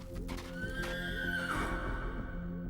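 A startled horse lets out a loud, close whinny that rises and falls over about two seconds, ringing above a steady background of low, dense sound with hoof-like clatter underneath.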